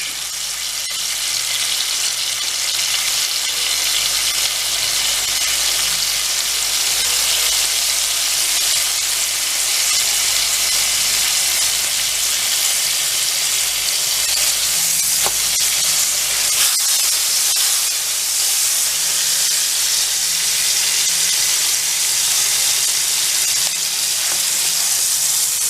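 Beef browns in a hot frying pan for boeuf en croute with a steady, loud sizzle and hiss that lasts the whole time. A few small clicks and bumps sound from the pan, with no talking.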